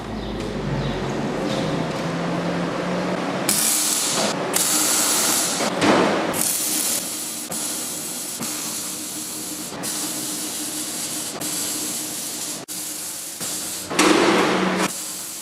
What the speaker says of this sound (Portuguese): ponho tipo 4 pontinhos de solda. E depois costuro a volta inteira.